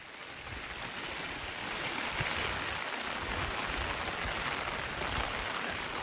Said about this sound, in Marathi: पाऊस आलाय जोरात.